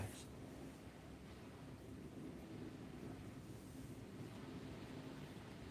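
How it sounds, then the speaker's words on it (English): Strong wind blows into the microphone, producing a low, steady rumble and muffled buffeting that holds at an even level throughout, close and fairly quiet. "The wind. It's picking up hard."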